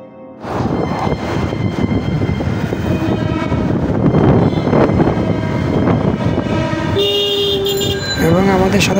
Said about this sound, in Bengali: আমাদের সাথে সাথে ট্রেনও একটা যাচ্ছে